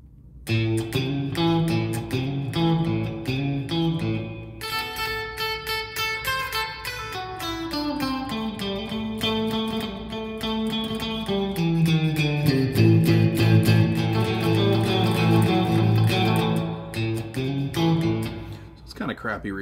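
Electric guitar played through an amp modeler with a cheap-sounding spring reverb, a run of plucked and strummed notes with a washy tail, steady and upfront with no talking.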